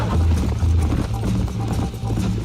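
A horse gallops in Red Dead Redemption, hooves beating in a quick, steady rhythm up close for a brief moment.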